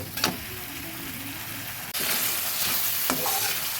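Spices fry in oil in a pan for a bean and poppy seed dish, a close steady sizzle that jumps louder midway, with a few scraping strokes from stirring and no talk.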